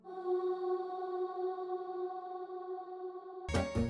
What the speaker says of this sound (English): For even more mood I added an Atmo sound which sounds like this.